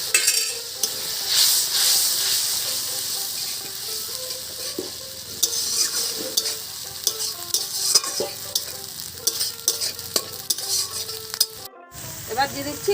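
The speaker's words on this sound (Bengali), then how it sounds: "এবার এটাতে একটু জল নিয়ে দিয়ে দিচ্ছি, মশলাটা কষিয়ে নেবো জলটা দিয়ে" Ground cumin, coriander, chili, black pepper and turmeric paste frying with a splash of water for a village-style catfish curry, loud continuous sizzle close up with constant stirring scrapes and a brief pause near the end.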